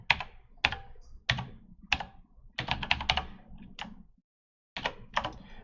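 Keys on a computer keyboard are pressed one at a time at an uneven pace, then in a quicker cluster, with a brief pause before a few final taps, close and clear with no voices.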